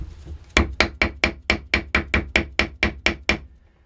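Mallet striking a rammer to pack powder into a spolette tube: about a dozen sharp, evenly spaced knocks in a quick steady rhythm, close and loud, each with a short decay, followed by quiet.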